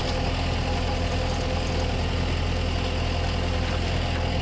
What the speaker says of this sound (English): runs the auger down to ground level and tries to get as much dirt up as he can in this last lift